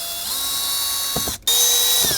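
Screws being backed out of the glove box of a 2018–2023 Jeep Wrangler JL: a close, steady whirring with a ratcheting edge, a brief break in the middle, then another run.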